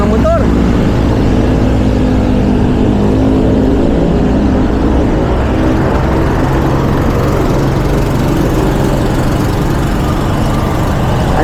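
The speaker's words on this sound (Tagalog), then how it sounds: "Dami ng mga motor." Many motorcycles on a group ride in the Philippines rumble past, a loud continuous low engine drone with shifting revs filling the whole stretch, with voices mixed in.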